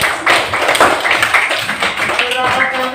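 A classroom of students claps for a classmate who answered a question in an Islamic lesson, a dense patter of hand claps with some voices mixed in.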